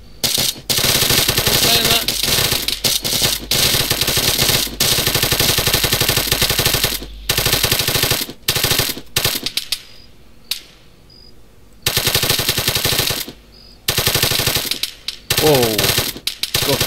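Night amphibious assault in ArmA 3, with loud sustained bursts of automatic gunfire rattling close by, broken by brief pauses and a few quieter gaps, while voices talk intermittently over the shooting.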